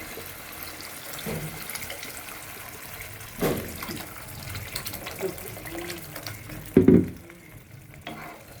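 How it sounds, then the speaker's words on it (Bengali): Water goes into a simmering tomato sauce for a rohu fish curry. Soft bubbling and stirring underneath build into two short, louder pouring splashes near the middle and end. "পানি দিয়ে দেবো"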